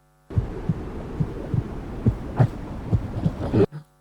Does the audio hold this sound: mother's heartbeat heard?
yes